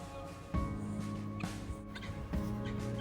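Harsh, rattling calls of helmeted guinea fowl at a zoo repeat in bursts over a noisy background, fairly close and loud.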